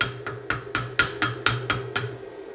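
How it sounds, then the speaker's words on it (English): A body hammer knocks slag off a fresh stick weld laid with a YESWELDER ARC-205DS 205 amp digital inverter stick welder: about ten quick, sharp metallic raps at a steady rhythm, close up, with no talking. "Take that body hammer there and knock the slag off of there real quick."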